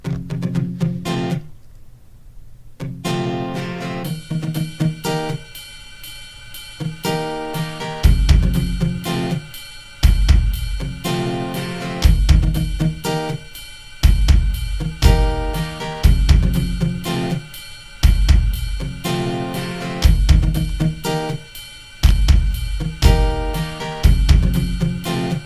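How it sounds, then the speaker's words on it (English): A layered three-track electronic song built in EarSketch, with drums, bass and melodic parts stacking up after a brief sparse opening, then playing as a steady, loud looping groove with regular beat accents throughout, no voices. "now we have 3 tracks of music, kind of layered one on top of the other"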